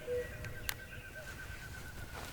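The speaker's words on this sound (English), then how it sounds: "cuckoos echoing in the distance," Cuckoos call faintly from far off in a quiet natural setting near a bird hide, their soft repeated coos barely rising above low background hiss.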